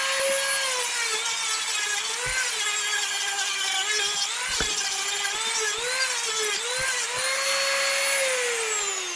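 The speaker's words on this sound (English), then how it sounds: "my Dremel has a little round sanding drum." A handheld Dremel rotary tool with a small round sanding drum cleans the inside of a Jeep Patriot rear wheel bearing housing, giving a close, steady high-pitched whine whose pitch dips and recovers as the drum bites, with no talking.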